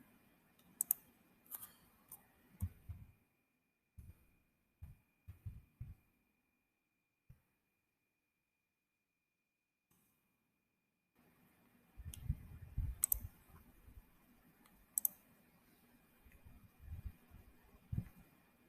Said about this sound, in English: They're typing the wrong thing.